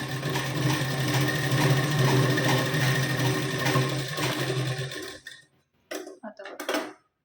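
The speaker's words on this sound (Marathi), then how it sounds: "ते इथे मी बघा शिलाई देऊन घेते" A sewing machine runs steadily while stitching tucks into a blouse, a continuous loud mechanical whir lasting about five seconds before stopping, followed by a few short separate bursts of sound.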